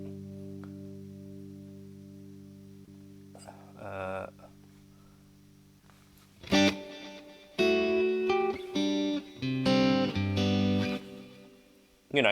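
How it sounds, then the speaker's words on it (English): Electric guitar chords and single notes ring out through a HoTone Ampero Stage reverb effect, with a washy, lingering tail after a long decaying chord at the start. "if we were to have a reverb"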